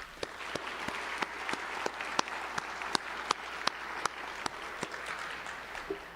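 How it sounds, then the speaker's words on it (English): Sustained audience applause at a high school football ceremony, a dense wash of many hands clapping with a few sharper nearby claps standing out, moderately distant and steady throughout. "So if we can give them a round of applause as well."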